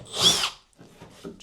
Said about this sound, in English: So I'm stepping up to a 1/4 inch drill bit here.